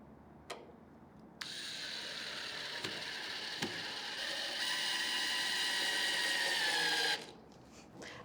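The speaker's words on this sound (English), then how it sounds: "I'm gonna change out bits and we're gonna put the screws in" A power drill drives 1.5 inch trim screws into wood through pilot holes, with a steady whirring drive running for several seconds after a couple of short clicks.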